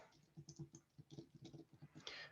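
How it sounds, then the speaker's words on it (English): Quick, uneven bursts of keys clatter on a computer keyboard, faint and close, with a slightly louder flurry of clicks at the end. "And then I'm going to type into it"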